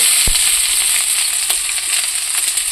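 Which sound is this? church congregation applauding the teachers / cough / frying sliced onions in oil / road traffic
frying sliced onions in oil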